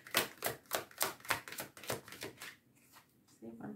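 Tarot cards are shuffled by hand in a quick run of crisp, rhythmic riffling bursts that fade out before a few quieter, scattered rustles.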